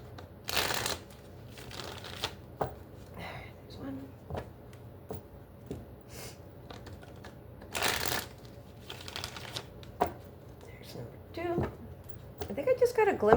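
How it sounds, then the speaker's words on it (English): A deck of tarot cards is shuffled in several short riffling bursts at close range, crisp flutters separated by pauses, with faint handling noises and a voice speaking quietly in between. "so let's do 3 shuffles here."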